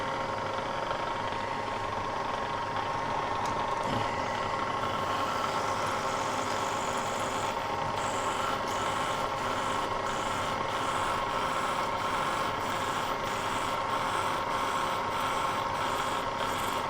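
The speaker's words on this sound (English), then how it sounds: "drill this countersink." A milling machine drills a countersink in a base for wheel dressers, giving a steady, low mechanical hum with faint rubbing and cutting noise throughout, fairly quiet and without talk.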